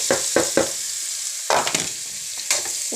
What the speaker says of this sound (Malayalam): ഇതിലേക്ക് കപ്പളങ്ങ അരിഞ്ഞ് വെച്ച് വിടുകയാണ്